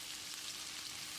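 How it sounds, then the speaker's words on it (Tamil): Steady, dense sizzling of onions sautéing until golden in a hot pan for a chicken curry, an even crackling hiss throughout with no voices. "வெங்காயத்தை நல்லா பொன்னிறமாக வதக்கிடலாம்."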